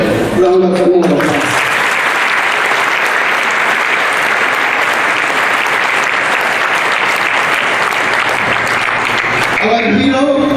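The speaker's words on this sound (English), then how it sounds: "So just give a round of applause." Loud, dense audience applause at a university-style Eid ul Fitr awards event, sustained steadily for about ten seconds, with brief speech at the very start and end.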